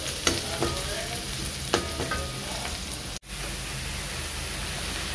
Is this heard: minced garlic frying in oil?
yes